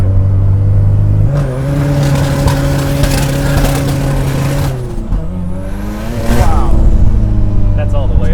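A tuned 700 hp Mazda RX-7 rotary engine revs hard and loud up close, with sustained high-rpm blats, brief dips between pulls, and a final surge to full throttle, while voices talk underneath.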